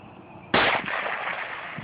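A tannerite charge set off by a rifle shot at Tranquility Lakes, one sudden loud blast after a quiet start, then a long rumbling roar that slowly fades.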